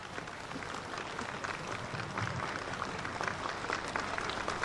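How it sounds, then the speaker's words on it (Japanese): An audience at a Noto Peninsula support concert applauds to welcome the 34-member Kobe Boys and Girls Choir, a sustained, moderately distant wash of hall clapping that runs evenly with a slight swell near the end. "盛大な拍手でお迎えください"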